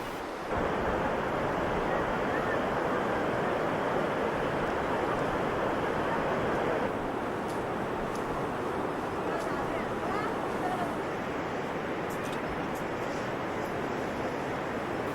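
Rushing blue mountain torrent flowing beneath a swaying footbridge in Uttarakhand, a loud steady broadband roar of water close by throughout, with wind buffeting the microphone.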